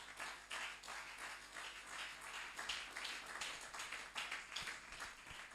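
A church congregation claps, a faint, distant patter of rhythmic applause with scattered louder taps that keeps going throughout.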